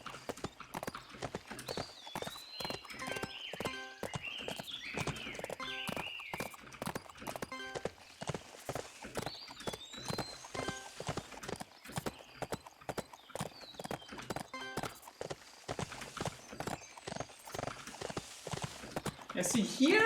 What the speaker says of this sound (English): here the horse is totally fine running down that slope